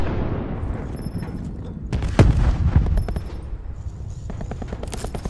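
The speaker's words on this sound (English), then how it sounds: "Cluster grenade." Cluster grenade explosions in Call of Duty: Black Ops 4, a loud burst of rapid blasts and crackling detonations that peaks in the middle, set against steady game noise and gunfire.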